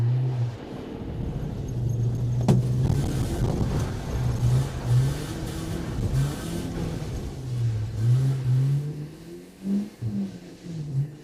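A BMW E36 318is on a gymkhana drift run accelerates hard, its mid-pitched engine rising and falling through revs, with a sharp click near the start and uneven throttle surges toward the end, heard close from onboard.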